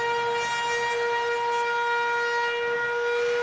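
A loud, sustained stadium half-time siren wails steadily with a harsh, buzzing tone, holding unbroken for several seconds over a faint crowd murmur at a 2003 Great Britain v Australia rugby league test match.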